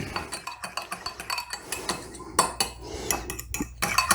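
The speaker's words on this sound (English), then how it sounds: "And as you stir that in, it will gradually get the lumps out." A spoon stirs flour into chicken stew in a slow cooker, making quick irregular clinks and scrapes against the pot. The sound is close and fairly quiet, with no talking.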